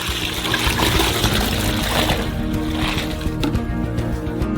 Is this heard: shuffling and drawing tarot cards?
no